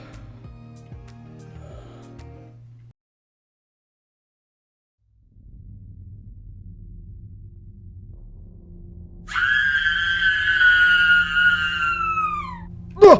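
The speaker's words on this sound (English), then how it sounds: "Did anyone else hear that scream?" In the Clue video game, a high, wavering scream rises suddenly after a quiet stretch of low humming ambience, slides downward over about three seconds, and ends with a sharp burst.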